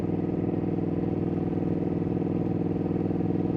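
Ducati Panigale V2 S motorcycle engine pulling steadily in 4th gear at low speed, a continuous dense, smooth mid-range drone with rapid firing pulses, close and loud throughout.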